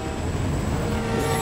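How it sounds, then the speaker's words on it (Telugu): A train passes in the video game Grand Theft Auto V: a loud, steady rail rumble with a thin, sustained metallic whine above it, heard alone without talk. "ఓ రైలు వచ్చేసింది."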